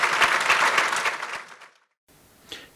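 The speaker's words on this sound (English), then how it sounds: "Let's give these three heroes a massive round of applause" An audience at a conference panel applauds in a dense, lively burst that tapers off after about a second and a half into near silence, followed by a faint brief noise.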